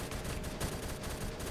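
Rapid automatic gunfire in the Roblox shooter Phantom Forces, a continuous rattle of steady shots running close and loud throughout.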